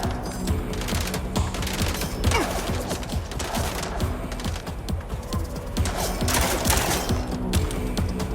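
Gunshots in the video game MindsEye: a dense, continuous spray of rapid fire under a loud, busy game mix, with no clear pauses across the stretch.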